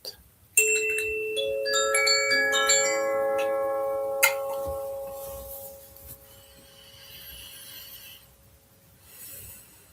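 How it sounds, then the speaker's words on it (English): A meditation bell rings out clearly once, its bright metallic tone ringing on with layered overtones and fading slowly over several seconds in a quiet room, with a softer second strike partway through. "I will ring the bell to start with and ring the bell at the end."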